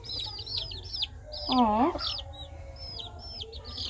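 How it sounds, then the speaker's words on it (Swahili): Chickens cluck softly in a yard, a quick run of short clucks broken by a louder throaty call, with a person briefly exclaiming nearby. "Look at their chickens."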